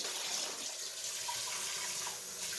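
Tap water runs steadily over a corned beef brisket in a sink, a continuous close splashing wash with no talking.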